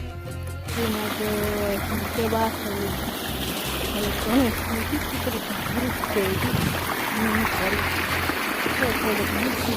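Irrigation water flows from a canal across farmland as a steady, continuous rush with a trickling edge, with voices talking over it throughout.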